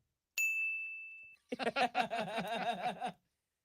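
A desk bell rung by a show host gives one bright, clear ding that rings out and decays, followed by a voice speaking.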